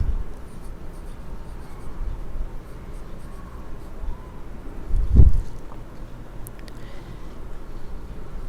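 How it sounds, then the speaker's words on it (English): Pen scratching across a notebook page during note-taking, a close, steady scratchy scrawl with one louder stroke partway through, no voices. "on the first page, I'm going to write the name of my country,"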